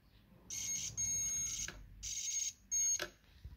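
Multimeter continuity tester probing the power cord of a Nespresso Magimix coffee machine gives several bright, high-pitched electronic beeps in short bursts and longer tones, with small clicks of the probes between them.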